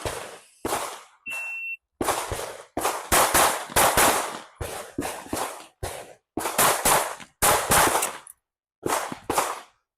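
Rapid gunshots ring out during a competition pistol shooting drill. Bursts of loud, sharp reports come in quick clusters, separated by short pauses and a timer beep near the start, all close and with no speech.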